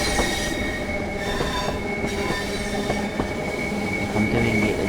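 A train in the video game Train Sim World 5 runs with a steady loud rumble, with wheel squeal and faint clicking from the rails, and no voices.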